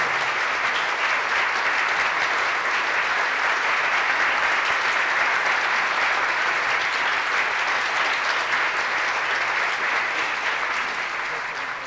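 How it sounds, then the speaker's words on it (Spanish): An audience at a tribute honoring composer Álvaro Carrillo breaks into loud, sustained applause, a thick continuous wash of clapping that holds steady for nearly twelve seconds before easing slightly at the end. "fuerte el aplauso"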